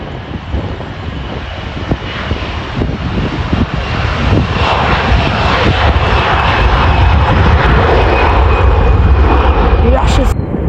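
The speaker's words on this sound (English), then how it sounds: "Condor rushes the runway." A Condor airliner takes off at Leipzig airport, its engines roaring loud and steady as it rushes down the runway, the thrust building across the whole stretch, with someone talking over it.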